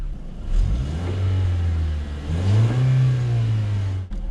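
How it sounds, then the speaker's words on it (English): A 2022 Lexus IS300 F-Sport with a 2-liter turbocharged engine cranks and fires up, its idle swelling into two loud, close revs before settling, with no talk over it. "You can hear the 2-liter turbocharged engine come to life."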